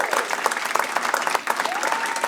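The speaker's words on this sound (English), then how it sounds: "let's give them all another round of applause" Audience applause for participants at the annual MLK Jr. Oratory Competition in Chicago, brisk overlapping clapping from a sizable crowd, loud and continuous with a faint whistle or cheer rising near the end.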